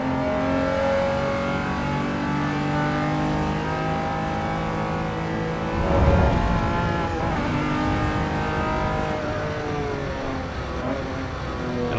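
A classic car with a five-speed manual gearbox drives in the Assetto Corsa EVO racing game, its engine droning steadily with harmonic tones that rise and fall through gear changes, plus a brief rougher surge midway.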